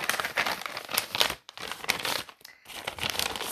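Paper rustles and crinkles close up in several bursts with short pauses between them while a name is written on the sheet. No one speaks.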